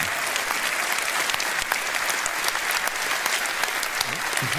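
Steady, dense applause from a political rally crowd at a Reform UK campaign event in Hull, continuous and fairly loud throughout with no pause.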